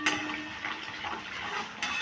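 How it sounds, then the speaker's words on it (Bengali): Spice masala with cashews is fried and stirred in a pan, a soft sizzle with scraping and light clinks of a utensil against metal, close by and fairly quiet, with no voice. "যতক্ষণ তেল না ছাড়ে ততক্ষণ আমি একটু এটা কষিয়ে নিচ্ছি"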